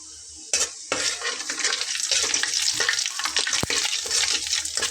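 Whole spices of bay leaf, cinnamon, cloves and cumin hit hot oil for a fish and cauliflower curry, a loud, dense crackling sizzle, with a few sharp clicks of a utensil against the pan.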